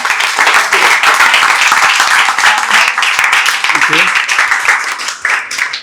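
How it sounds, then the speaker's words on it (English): An audience in a classroom claps for a speaker, with dense continuous applause running throughout and voices murmuring underneath. "Please clap for Anjali."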